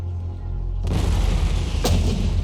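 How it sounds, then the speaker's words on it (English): A new cannon firing sound in Empire Total War, recorded from real live-fire cannons, bursts in as a heavy boom with a long rolling rumble, followed by a second sharp crack about a second later. "That sound there, that was the new cannon sounds that I'm starting to phase in from actual live firing cannons"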